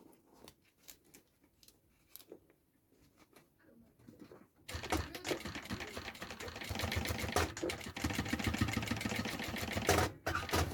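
A sewing machine stitches a small fabric mini backpack, its fast rhythmic needle clatter starting partway through and running loud and steady to the end. Quieter handling taps come before it.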